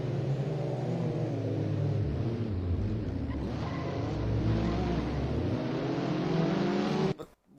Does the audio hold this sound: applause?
no